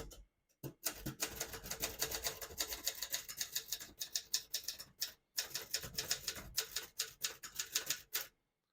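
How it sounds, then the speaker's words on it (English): A 1975 Adler J5 portable typewriter being typed on, with rapid close clattering keystrokes in a continuous run and a few brief pauses along the way. "So I'll type a sentence and then draw a line."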